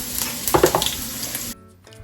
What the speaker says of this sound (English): now I'm going to fry my onion